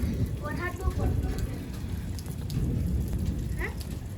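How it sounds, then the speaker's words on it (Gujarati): Heavy rain pouring steadily with thunder rumbling, a dense close hiss of falling water throughout while someone talks over it. "આજે વરસાદ બહુ પડતો છે એટલે અમે છે ને કાલે જવાના છે 3 વાગે એટલા વાગે એટલે તો આજનો માહોલ છે ને આ ગાજવીજ થાય છે"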